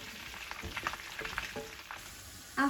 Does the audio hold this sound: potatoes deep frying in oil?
yes